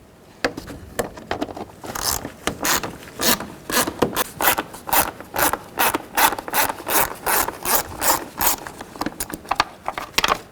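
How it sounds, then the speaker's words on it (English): Screws around the airbox of a 2010-16 Buick LaCrosse being loosened with a T25 driver, a close run of rhythmic ratcheting clicks and scraping turns in bursts, with no talking. "Take a T25 and loosen up all these screws around the airbox."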